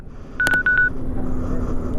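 Electronic call tones from a motorcycle helmet intercom during a snowy ride home: a short burst of bright, steady beeps in two quick groups, clear and close over low road and wind rumble.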